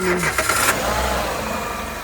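Cold start of a Renault Megane 3 hatchback with a 1.6 petrol engine on a rainy day: a short starter crank, then the engine catching and settling into a steady, close idle.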